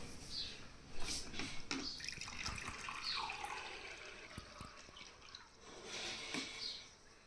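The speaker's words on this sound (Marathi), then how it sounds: "आता ह्या ग्लासमध्ये घेऊ आपण हे अल्कलाईन पाणी." Alkaline water pours and trickles into a glass in short bursts, with light splashing and a few clinks nearby.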